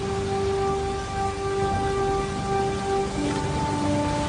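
Storm rain at sea in the Indian Ocean, a loud, steady, dense hiss of rainfall that holds evenly throughout, with faint sustained tonal hums running beneath it.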